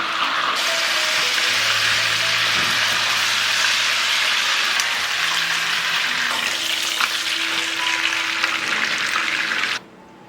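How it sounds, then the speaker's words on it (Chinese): Pork shoulder sizzles steadily as it pan-fries over low heat with rosemary, a close, even hiss that runs without a break before cutting off near the end. "汤汁收干了，我们就调小火来煎，把迷迭香加进来。"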